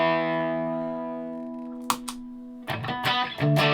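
An electric guitar chord rings out through a pedal set to light distortion, with slight grit, and slowly decays, followed by a few more strummed chords with a lightly overdriven edge.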